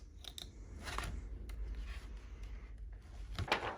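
Vinyl alphabet letters in olive are peeled off a Cricut mat, giving soft, close crackling and sticky ripping sounds with a few sharp ticks at a low level.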